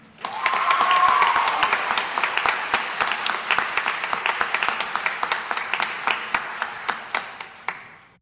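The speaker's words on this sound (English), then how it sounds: "Sounds like Nikhil brought his own cheering section" Audience applause at a high school underclass awards ceremony, dense clapping swelling loud at first then thinning into scattered claps that fade out; no cheering voices stand out.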